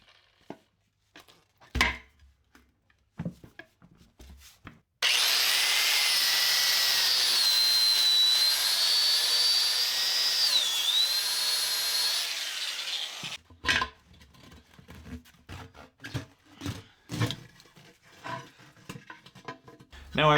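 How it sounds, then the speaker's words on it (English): An angle grinder plunge-cuts through a tire bead at the edge of an aluminum rim, a loud, continuous high whine with shifting pitch lasting about eight seconds, framed by clattering handling sounds. "It's simply slicing straight through the bead from the edge of the rim. Just a simple plunge cut,"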